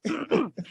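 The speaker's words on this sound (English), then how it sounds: "Had to clear my throat." A man clears his throat in two rough, guttural bursts followed by a shorter third rasp, close and loud with no other sound around it.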